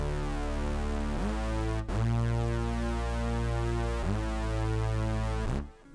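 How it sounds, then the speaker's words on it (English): Dense, sustained mid-frequency synth bass from a produced song, loud and continuous with a rhythmic pulse and note changes every second or so, cutting off abruptly at the end. "So mid frequency bass sounds like this."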